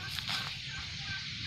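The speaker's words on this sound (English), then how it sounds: "Mother hen with her chicks or baby." Chickens in an outdoor setting, a mother hen with her chicks, make soft clucking calls over a steady background hum, with a few brief louder calls near the start.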